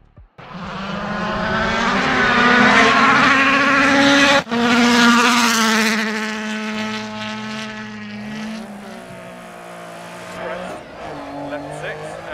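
Rally car engine in the video game Dirt Rally on the Fferm Wynt stage revs hard and loud, with rising gear-shift whines, a brief cut and tyre noise as it settles, and a voice speaking over it.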